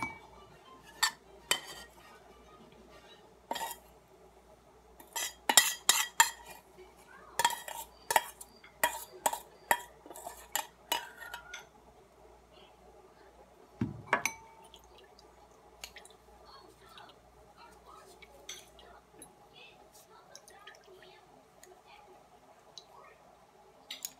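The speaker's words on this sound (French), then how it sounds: "nous allons extraire l'huile à l'aide de notre tamis là" Homemade carrot oil, cooked until brown, strained through a sieve: scattered drips, clinks and clicks of utensil against metal and glass, loudest in a busy middle stretch, then sparser and faint with room noise.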